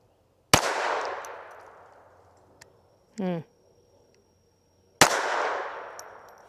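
A Retay RXP 22 handgun fires two sharp shots about four seconds apart, each ringing out with a long decaying echo, with a short spoken remark between them.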